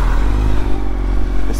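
A 48 hp motorcycle engine drones loud and close, a steady low rumble that holds under acceleration for under two seconds with no voices.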